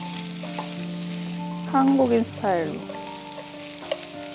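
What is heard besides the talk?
shrimp and garlic frying in a pan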